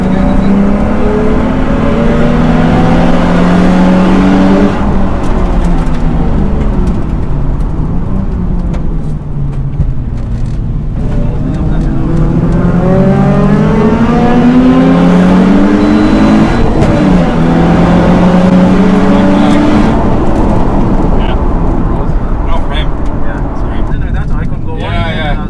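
A track day car laps a wet Mondello Park circuit, its engine sweeping up and down through the gears in repeated rising and falling revs. The sound is loud and close, as if heard from onboard, and people talk over it throughout.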